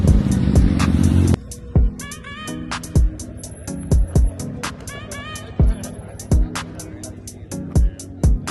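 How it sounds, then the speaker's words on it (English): Nissan Z cars rolling into a morning car meet, engines idling and revving in short repeated bursts with sharp clicks and gaps between, fairly close. "the Z cars are rolling in pretty heavy"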